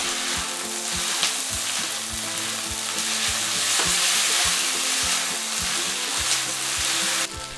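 Chow mein sauce with soy sauce, sugar, salt and ground pepper sizzles loudly in a pan, a constant hiss broken by a regular series of low knocks as the spatula stirs, running steadily to the end.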